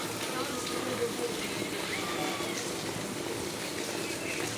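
Steady heavy rain falls outdoors among potted plants, a constant broad wash of water and splashing drops with no break across the whole stretch.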